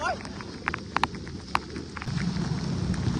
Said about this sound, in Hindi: बहुत बारिश दे रहा है।